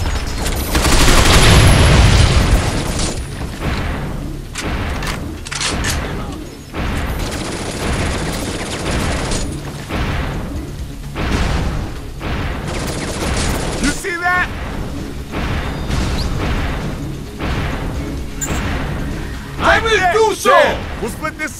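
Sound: gunfire in video game Binary Domain

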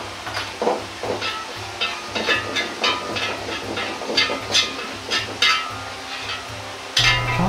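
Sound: whole Sichuan peppercorns stir-frying in oil on low heat

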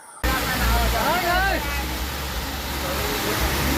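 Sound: Sarayu river water flowing fast at Ram Ghat

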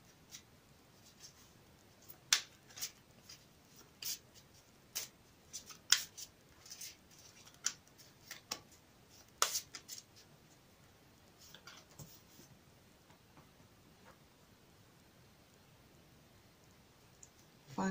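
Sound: shuffling a deck of cards

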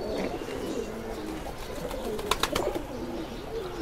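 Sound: pigeons cooing

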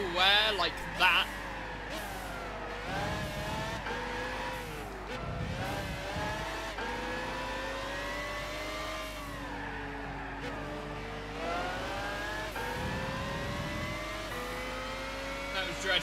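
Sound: racing car engines in video game Gran Turismo 6

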